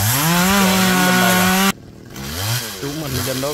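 A chainsaw cuts into a large golden wattle tree, its loud, close engine whining steadily, then briefly cutting out before revving back up with shifting pitch.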